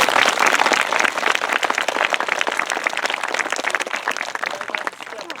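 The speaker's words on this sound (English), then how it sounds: "If you give them a round of applause" An audience applauds at a school tower ribbon cutting ceremony outdoors at Sunshine Elementary, dense, continuous clapping that stays loud and then thins and fades near the end.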